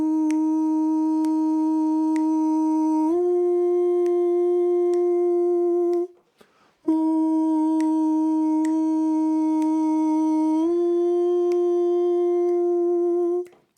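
Sustained sung 'oo' line from the outro of a song, a lower mids part moving between two held notes in two long phrases split by a brief pause; clear, close and unaccompanied.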